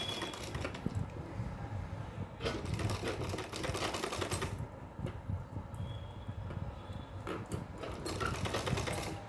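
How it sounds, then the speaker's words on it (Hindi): A sewing machine stitches a small doll dress for a Laddu Gopal idol, running in steady rapid bursts of needle clatter with brief pauses between runs, close and fairly loud, with no talking. "तो सबसे पहले हम एक हिस्से को सिल लेते हैं, डबल सिलाई लगाएंगे शुरू में।"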